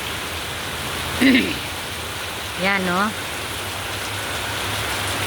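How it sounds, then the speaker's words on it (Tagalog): Heavy rain pours steadily in a thunderstorm, a dense continuous hiss filling the whole stretch, with a voice briefly exclaiming twice over it. "Lakas ng ulan oh."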